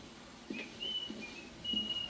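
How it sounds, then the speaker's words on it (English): A person whistles a few thin, clear sustained notes, faint and alone against a quiet background with soft low thumps. "You did not whistle that on the way out."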